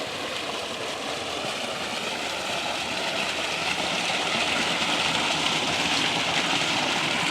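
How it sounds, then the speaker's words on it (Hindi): Water gushes from a solar-powered tubewell submersible pump in the morning, a continuous, even rushing and splashing roar with no breaks, close and steady throughout, slightly swelling toward the end. "सही ज़बरदस्त पानी है ट्यूबवैल का"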